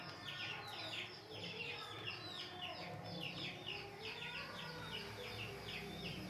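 Native chickens and a rooster cluck repeatedly while eating feed in the rain, a busy overlapping chorus of short clucks over a steady patter of rainfall.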